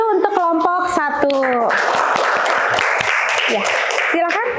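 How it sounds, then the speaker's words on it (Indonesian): A school class bursts into applause for a student group. A teacher's voice comes first, then about two and a half seconds of bright, scattered clapping fill the room, and talk resumes at the end. "Tepuk tangan dulu untuk kelompok 1."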